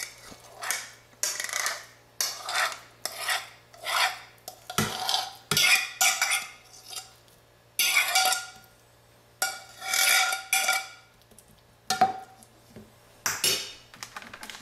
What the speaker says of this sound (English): we're gonna scoop all this pulp into a bowl